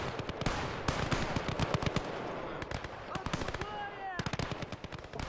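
Rapid small-arms bursts from two squads trading fire and maneuvering in the WWII video game Gates of Hell, Ostfront, with dense overlapping gunfire and sharp repeated cracks throughout, fairly loud and continuous.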